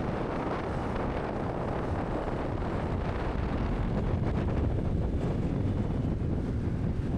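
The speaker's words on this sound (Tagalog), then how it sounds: "Malamig ang simoy ng hangin dito." Strong wind buffets the microphone in a continuous rough roar, gusting slightly stronger toward the end, on a motorcycle ride along a tree-lined road from Tagum City to Mawab.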